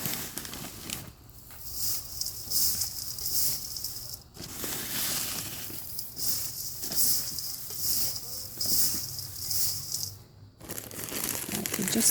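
Damp moss and potting mix being stirred and mixed by hand for repotting a rain-damaged Cymbidium orchid, a steady close crinkling, rustling texture with brief pauses, no talking.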